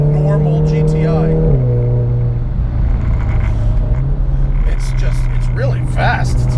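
A 400 HP RevoTechnik Stage 3 VW Mk7 GTI pulls hard through third gear out of corners on a race track. The engine drone is loud, close and steady, with a pitch change around a shift and talk over the top.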